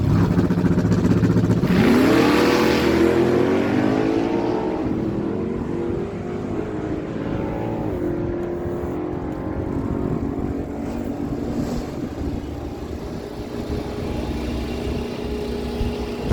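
A Chevy S10 and a 1986 Oldsmobile Cutlass wagon launch at a dragstrip with a loud, rising engine roar that sweeps upward in pitch, then recedes into a distant, fading drone.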